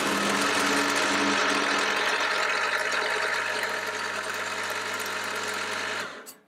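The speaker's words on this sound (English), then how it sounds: "Put the pin back in and then machine the next flat." Milling machine cutting a flat on a workpiece held in a dividing head, a loud, steady mechanical whir and grind that holds for about six seconds before quickly winding down to silence.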